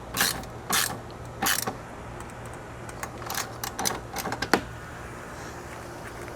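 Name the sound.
tightening chassis brace bolts on a GR Corolla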